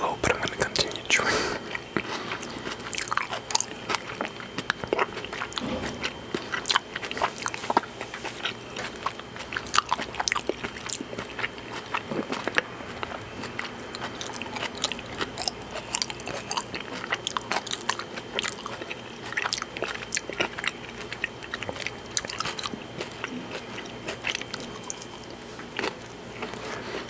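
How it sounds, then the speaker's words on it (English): During a breakfast mukbang, food is chewed close to the microphone with repeated wet crunching and biting sounds in a steady rhythm, along with faint soft whispering. "but I'm gonna continue chewing."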